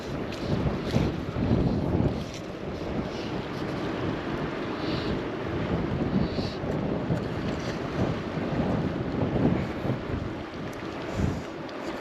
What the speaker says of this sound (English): Of course the wind comes out now